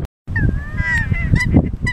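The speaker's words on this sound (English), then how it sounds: "the rare and endangered nene goose" Nene geese, the endangered Hawaiian goose, honk close by on Kauai in a loud run of nasal, wavering calls, several overlapping honks following one another after a brief moment of silence.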